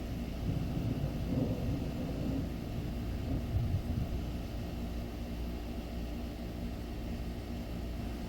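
Thunder from a storm outside rolls as a continuous low, distant rumble that swells slightly early on and then holds steady, with no speech.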